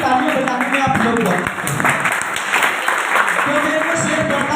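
An audience claps steadily at a three-day business seminar held at a tiger resort. The clapping is loud and sustained, and voices carry over it.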